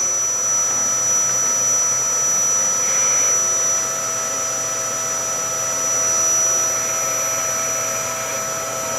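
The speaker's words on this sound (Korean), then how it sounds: "솔과 청소기를 이용해서 이제 최종적으로 남아있는 찌꺼기를 완전히 다 제거를 해주세요" A vacuum cleaner, used with a brush to clear leftover coffee grounds from a coffee grinder, runs as a steady, fairly loud whine and roar for the whole stretch with only slight shifts in pitch.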